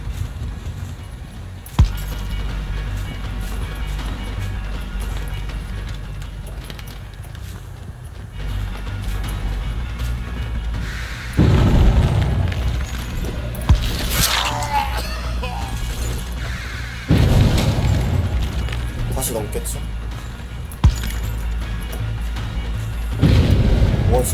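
Booming in-game explosions burst out loudly about three times, each a broad crash with rumbling tail, over a steady background game drone with occasional sharp thumps.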